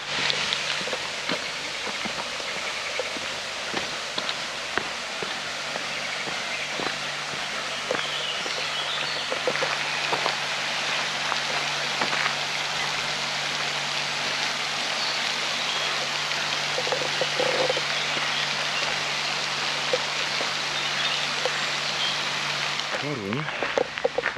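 Steady broadband rush of a small stream flowing through a large city park in Toruń, a continuous watery wash lasting throughout with faint birds and occasional distant voices in the background.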